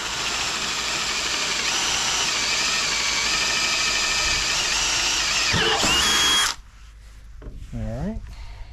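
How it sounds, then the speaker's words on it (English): A power drill bores a hole in a container for a fruit tree water tower, a loud close steady whine that strains and then stops abruptly, followed by someone speaking. "So let me drill it."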